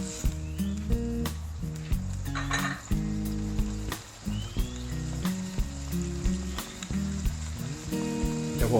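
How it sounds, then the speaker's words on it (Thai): Curry ingredients stirred in a metal pot for a Thai spicy beef shank curry, with repeated utensil clinks and scrapes over a steady sizzle, close and fairly loud with no talking. "แล้วก็คนส่วนผสมทั้งหมดนะครับ ให้เข้ากัน"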